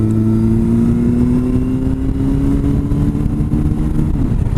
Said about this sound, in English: So now I'm braking with the front brake, downshifting.